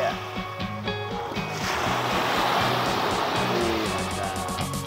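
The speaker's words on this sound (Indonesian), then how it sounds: "Kita dengar suara ombaknya" Ocean waves on a beach at Pangandaran, West Java, wash and surge in a broad hiss that swells and recedes, mixed with background music and a low hum.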